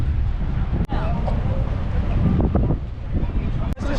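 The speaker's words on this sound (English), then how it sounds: "It's very, very windy here." Strong wind on a Greek island buffets the microphone in a loud, rumbling roar with brief dips, as though beside open water.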